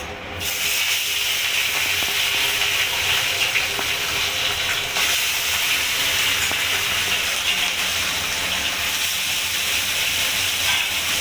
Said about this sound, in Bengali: তেলটা গরম হয়ে গেছে এবার আমি গ্যাসের ফ্লেমটা আস্তে দিয়ে এবার কড়াইয়ের মধ্যে মাছটা দিয়ে দেব